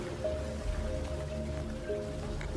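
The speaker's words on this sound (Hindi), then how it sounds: "बारिश इतनी तेज हो रही थी कि अभी भी बारिश की धीमी धीमी आवाज सुनाई दे रही थी।" Rain falling steadily outside a house during a heavy downpour, a constant hiss with a low background hum and no voices.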